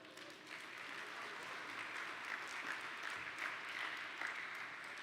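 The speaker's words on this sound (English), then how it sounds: "Please give a huge round of applause for Professor Luna Liu." Sustained audience applause fills a large room at a hackathon opening ceremony, a dense, steady wash of many hands clapping that holds at an even level throughout, with no voice over it.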